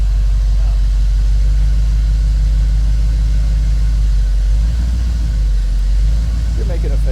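A Ford F-150 pickup truck engine idles with a loud, steady low rumble throughout, while people talk nearby.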